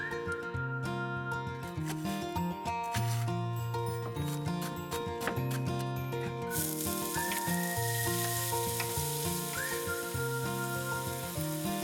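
Green onion stir-frying in plenty of cooking oil in a pot, a steady crackling sizzle heard beneath music, with occasional brighter spits and pops.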